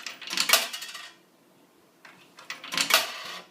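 Coins clatter into an electronic coin bank in two short metallic bursts, jingling brightly, separated by a quiet pause.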